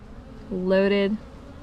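A loud, close buzzing swell of bees on a brood-packed hive frame that rises for about half a second and fades, over a quieter background hum.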